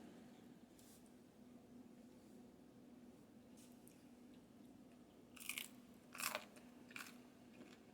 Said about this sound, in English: Oh, hear that crunch.